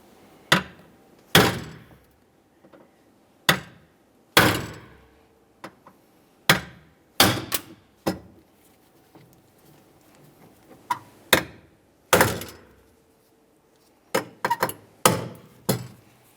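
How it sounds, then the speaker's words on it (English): Hammer striking a punch to knock out the centers of rivets on the rear power window regulator of a 2003-2011 Mercury Grand Marquis, about twenty sharp metallic blows, spaced at first and then quicker in clusters, close and loud in a quiet room. "you can use a hammer and a punch. Come right in the center and knock out the middle here"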